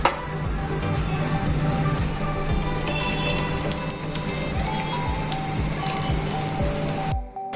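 Ginger garlic paste fries in butter with a steady, close crackle and sputter, like rain on a hot surface, with a faint low hum under it. It continues without talk and then cuts off abruptly.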